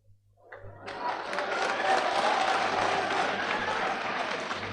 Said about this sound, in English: you clap more, don't worry